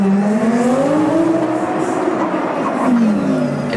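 An Audi R8 race car with its engine at the rear roars past during a Race of Champions event in Düsseldorf, its loud engine tone rising and falling as it revs through gears, with other engine noise layered close by.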